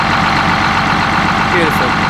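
The engine of a 1980 Crown Super Coach school bus, converted for living, idles loudly and steadily up close as it warms up, a dense continuous rumble that holds level, with a voice talking over it.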